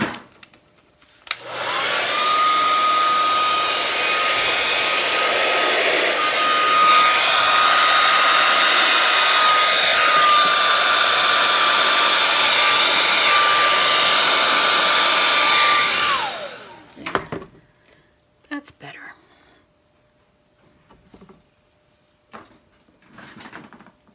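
A hair dryer blows on a Dutch pour acrylic painting, a loud, close, steady whooshing roar with a whining tone that runs for about fifteen seconds before switching off, followed by scattered quiet handling clicks.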